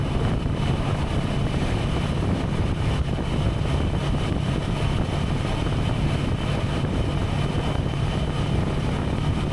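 A 2023 Kawasaki Versys 650 LT cruising in sixth gear at about 60 mph in misty conditions, a steady engine drone under heavy rushing wind noise, constant and loud with no talk.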